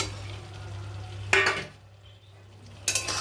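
Pumpkin tipped into sizzling masala in a pan for a shrimp and pumpkin curry, two short bursts of spatula scraping and frying over a low steady hum, close and fairly quiet between strokes.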